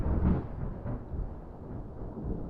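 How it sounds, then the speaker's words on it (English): Thunder rolling during a thunderstorm, a low, deep rumble that swells and fades over a couple of seconds, fairly distant and alone without talk. "while I'm filming here so you can hear the thunder"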